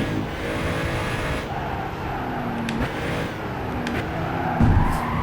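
A race car in the Gran Turismo 5 video game slides as its brakes are pumped, giving a steady loud engine drone with tire skid noise and a brief louder bump near the end.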